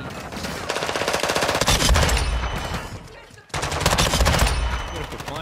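Rapid automatic rifle fire in a Call of Duty match on the Shipment map, two long loud bursts of closely spaced shots separated by a brief break, with muffled voices faintly underneath.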